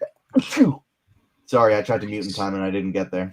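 A single sharp sneeze bursts out near the mic during a fantasy-basketball podcast, followed after a short pause by someone talking.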